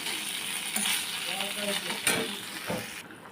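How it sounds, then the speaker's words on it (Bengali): Water is poured into a hot pan of tangra fish curry, raising a loud, continuous sizzling hiss with stirring scrapes and a few sharp clinks, close up. "এখন আমি জল দিয়ে দেবো"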